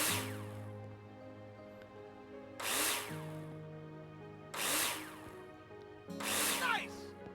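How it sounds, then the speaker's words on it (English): A power drill drives screws into plasterboard in the Builder Simulator construction game, three short whirring bursts spaced a couple of seconds apart over a steady background hum of game music, with a person speaking between them. "Take your drill out and screw them in."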